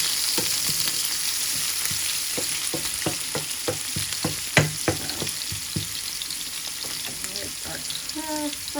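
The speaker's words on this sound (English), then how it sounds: "Fry up, getting a bit brown" Food sizzles and fries in a pan for Nigerian jollof rice, a steady hiss broken by repeated clattering stirs and scrapes, close and moderately loud, with a faint voice briefly in the background.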